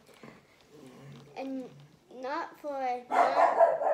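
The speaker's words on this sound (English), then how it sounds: "We can just talk over the dog barking because that is life." A dog barks several times in short bursts, growing louder toward the end, while a person talks over it indoors.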